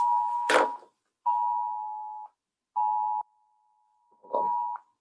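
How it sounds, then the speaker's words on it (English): A phone sounds an Amber alert, loud repeated electronic tones in separate bursts of about a second each with short gaps, one burst mixed with a sharp knock or handling sound. "I got an Amber alert going on."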